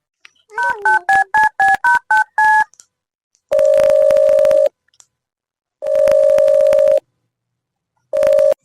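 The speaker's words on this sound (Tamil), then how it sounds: "என்ன ரிங் போகுது எடுக்க மாட்டேங்காரு" A string of eight quick keypad dialing beeps is followed by an outgoing call's ringback: loud, steady tone bursts about a second long, separated by silences, with the third just starting.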